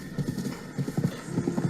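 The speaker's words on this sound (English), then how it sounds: "each individual hoof is touching the ground, so that it's not just like a loop of a horse running sound" Horse hooves clip-clop in The Legend of Zelda: Breath of the Wild, each hoof landing separately in an uneven galloping rhythm, close and fairly loud with no talk over it.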